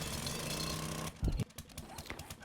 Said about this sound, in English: Let's get the auger going.